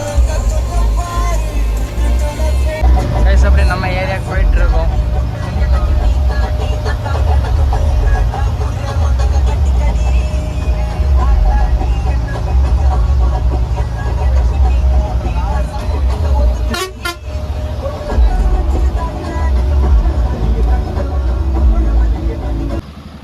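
A vehicle interior on a road trip to Dindigul, with a steady loud engine drone and road rumble running throughout and a brief rattle partway through.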